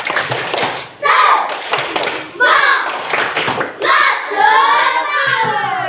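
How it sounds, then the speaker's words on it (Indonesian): A primary school class in an Indonesian lesson performs a rhythmic spirit clap, with patterned bursts of hand claps and thumps repeating close by. Children's voices chant and talk along between the bursts. "Biar semangat lagi, kita tepuk semangat sekali lagi."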